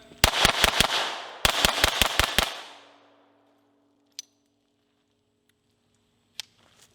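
A USFA Zip 22 .22 rifle fires a quick string of four sharp shots, then a second rapid string of six, each crack close and loud with a fading tail, followed by faint clicks.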